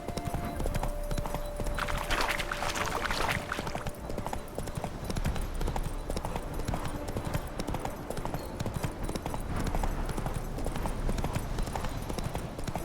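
Horse hooves clip-clopping steadily in The Witcher 3, a continuous rhythmic trot under game music and ambience, with a brief whinny-like tone near the start.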